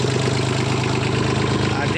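A small tractor engine idles nearby with a steady, rapid chugging rumble that holds constant throughout, loud and close with no voices.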